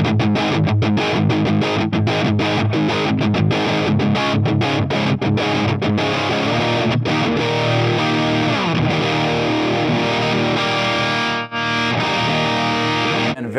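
Electric guitar played through an Orange amp simulation in AmpliTube with hall-like reverb, distorted chords and lead lines ringing out steadily and loud, alone without talk.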